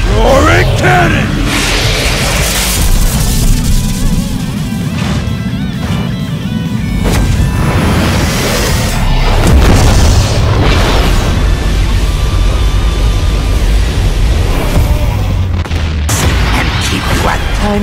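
A loud, sustained roar of booming blasts from a special attack in the video game One Punch Man: A Hero Nobody Knows rumbles on and on, with shouting voices over the top.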